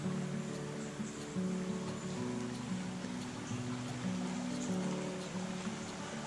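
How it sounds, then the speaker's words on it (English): A creek running across a beach at Westport on the Mendocino coast gives a steady, even wash of flowing water throughout, with a low rumble beneath that may be surf. "Now this creek runs all the way through the beach."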